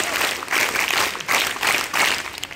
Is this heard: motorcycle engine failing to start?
no